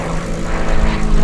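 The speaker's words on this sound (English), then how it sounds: "This is a development of those aircraft, the Gamebird." The Gamebird GB1 aerobatic propeller plane roars past at an airshow, a loud continuous engine-and-propeller drone that swells slightly over the brief moment.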